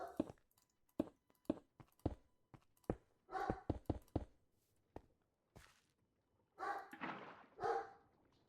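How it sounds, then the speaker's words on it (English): Several dogs bark and yelp in a scattered series of sharp, fairly close bursts, with a few longer whining or growling stretches toward the end and no talking over them. "If you can hear my dogs, just ignore them."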